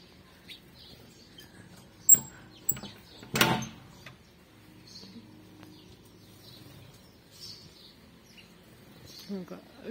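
A sparrow gives a few short chirps near its nest of chicks inside a house, scattered across quiet stretches with soft room noise and a person talking now and then.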